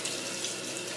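Steady rush of tap water running into a sink while lips are rinsed, close and continuous for a moment with no speech.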